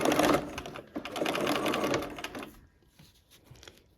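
A sewing machine stitches quilt pieces into pairs in a rapid, loud mechanical whir that runs for about two seconds before stopping, followed by softer handling noises.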